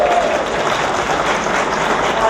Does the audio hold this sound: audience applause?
yes